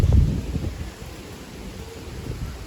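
Strong wind buffeting the microphone in low rumbling gusts on a farm, loudest at the start then settling into a steady blustery roar.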